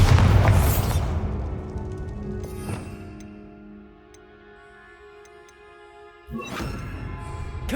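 A Bombarda spell explosion in Hogwarts Legacy, a loud boom that decays into a long ringing tail and lingering debris, followed by a second sudden burst near the end.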